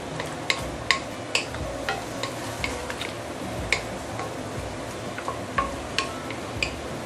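Herbs and fried onion are stirred into a pan of sizzling pork belly being braised. A steady fry hiss runs underneath, with a series of light clicks and scrapes from the utensil at irregular intervals and no speech.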